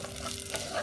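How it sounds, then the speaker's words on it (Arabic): Vegetables frying in a pan for a white-sauce pasta, a steady broadband sizzle with soft stirring, close and fairly quiet, lasting under a second with no voices. "بقليهم لتستوي الخضرة"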